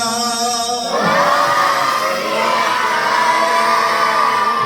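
A large crowd shouts the Sikh jaikara in unison at a Gurmat camp, voices swelling together after a single leading voice, sustained and boisterous.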